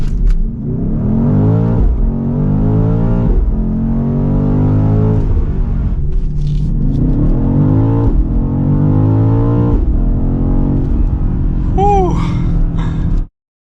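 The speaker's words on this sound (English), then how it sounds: "foot on the brake, foot on the gas. You'll see launch active." A 2023 BMW XM launching under launch control, a loud close engine roar rising through repeated gear-change sweeps, then cutting off abruptly.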